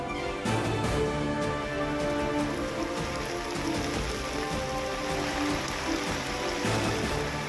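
Heavy rain pours down in Nagapattinam, a dense, steady hiss of drops hitting surfaces that stays loud and unbroken from start to finish with no voices.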